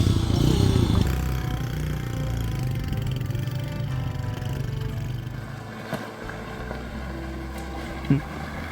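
Continuous engine drone of a motorbike riding a rough dirt road near Livingstonia, Malawi, steady and loud throughout with wind rush and a couple of small bumps near the end.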